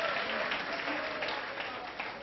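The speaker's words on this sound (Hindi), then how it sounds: "एक बार तालियां ठोको इसके लिए" Lecture-hall applause from students in a Hindi-language accountancy class, steady clapping held at a moderate, fairly distant level for about two seconds with no break.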